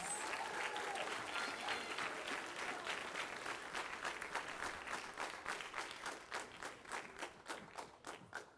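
A spring band concert crowd applauds the 9th grade class, sustained clapping from many people that slowly loosens into fewer, more distinct claps toward the end.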